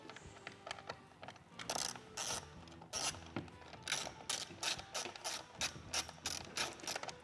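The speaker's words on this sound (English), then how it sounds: "when you take apart your glove box, pockets, whatever you want to call them, when you do, you take out all of the bolts" A hand ratchet removes Torx bolts from the inner fairing of a 2024 Harley-Davidson Road Glide, giving repeated sharp clicking pawl strokes in a steady back-and-forth rhythm at close range.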